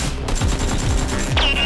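Nerf guns fire in a toy battle, a steady run of sharp clicking pops with a rising whir near the end, loud and busy throughout.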